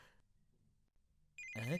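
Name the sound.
telephone ringing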